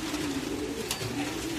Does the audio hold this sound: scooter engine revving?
no